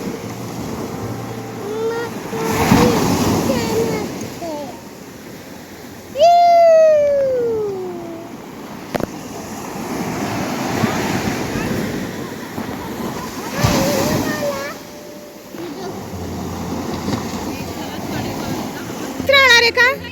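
Big sea waves break and wash up foamy water on a Konkan beach, the surf rising in broad swells under wind noise while people talk and one sings nearby.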